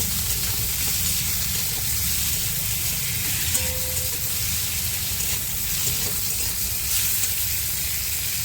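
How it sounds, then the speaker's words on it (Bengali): Chopped tomato stirred into prawns frying in a pan, a steady loud sizzle of hot oil running throughout with faint scraping of the stirring utensil. "দিয়ে দিচ্ছি টমেটো কুচি দিয়ে একটু ভালো করে নাড়াচাড়া দিয়ে দেবো"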